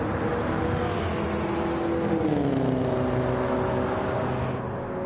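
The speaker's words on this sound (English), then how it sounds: "I swapped the exhaust. I don't know that it looks different. It kind of sounds like that" Ford Roadster with a swapped exhaust in Gran Turismo 7, its engine a steady droning hum with a slight rise in pitch partway through, continuous and fairly close.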